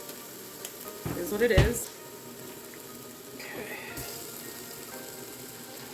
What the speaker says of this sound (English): Always a good idea to cook out your tomato paste a little bit.